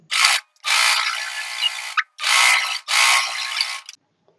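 A sewing machine stitches a blouse lining in four close, loud, whirring runs, each lasting about half a second to a second and a half, separated by short pauses.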